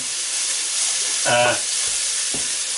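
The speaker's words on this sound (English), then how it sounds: "cook down the onions, the ginger and the garlic until they become" Onions, ginger and garlic fry for a lamb chop curry, giving a steady bright sizzle close by, briefly overlaid by a short harmonic voiced sound mid-way and a faint knock near the end.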